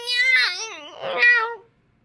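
A voice imitates a dog barking with two drawn-out, tonal woofs, close and clear with nothing else behind it, then silence.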